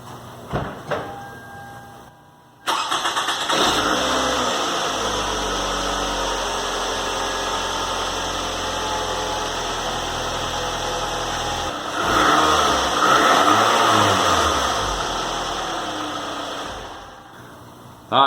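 A Toyota Camry with a freshly welded flex pipe starts up after a brief click, settles into a steady idle, then revs up once midway before dropping back, engine loud and close.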